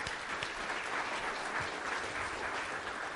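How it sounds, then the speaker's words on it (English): Steady applause from a church congregation during a Mother's Day service, a dense, even wash of clapping lasting a few seconds at moderate level with no talk over it. "Can you give them an applause?"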